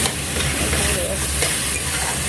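Cauliflower cooks in a hot pan with a constant, broad sizzle and hiss of frying, steady and close throughout, with a faint stirring texture underneath.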